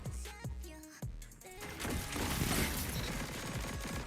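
Auto rifle gunfire in a Destiny 2 PvP match, a rapid continuous stream of shots after a few separate impacts, fairly quiet and steady to the end.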